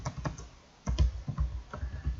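Quick, quiet taps on a computer keyboard, a short burst of irregular clicks with a brief pause before more keystrokes, close and alone.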